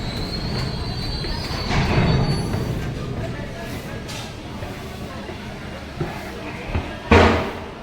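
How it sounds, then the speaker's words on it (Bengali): A freight train rolling past on platform 1 of a railway station, a continuous rumble with wheel noise swelling and fading, then sharper clanks and a burst of metallic screech near the end. "1 নম্বর দিয়ে মালগাড়ি যাচ্ছে"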